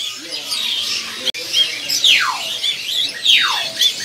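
A Demak tangguh perkutut (zebra dove) at a bird kiosk chirps and calls, with two clear descending whistled notes late on, over a busy bed of bird chatter and a brief click.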